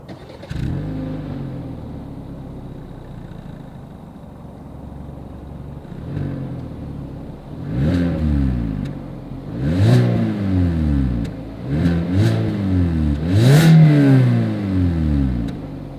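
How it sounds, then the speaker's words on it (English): A 2021 Hyundai Accent's engine starting and idling, then several rising and falling revs through the exhaust, heard from close by with no talking. "As always, here is that exhaust clip."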